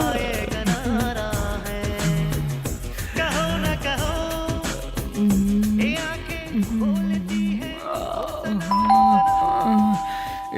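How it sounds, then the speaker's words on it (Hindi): A doorbell rings late at night, a chime sounding over loud music with a singing voice and beat that plays throughout, with steady background talk. "बीच में आके कौन घंटी बजा रहा है?"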